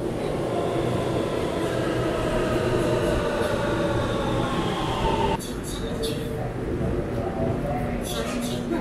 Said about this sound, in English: Here's the train that we're taking, going in the opposite direction.